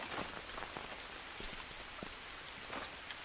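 Rain falling in the Green Hell jungle survival game, a soft steady patter of drops on surfaces with scattered louder individual splashes, continuous and fairly faint throughout.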